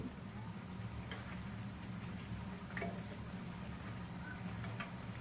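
Tikdi bhajiya fritters fry in hot oil with a soft, continuous sizzle and faint bubbling, quiet and close, with occasional small crackles.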